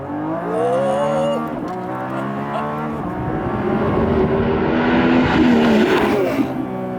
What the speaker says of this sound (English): Naturally aspirated V12s are just the greatest engine in the world.